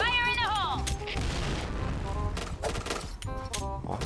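A loud grenade blast and crashing debris ring out over dense video-game gunfire and chaotic action, with voices layered through the mix.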